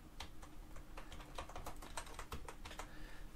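Quiet, steady typing on a computer keyboard: a fast run of light, close key clicks in an uneven rhythm with no voice.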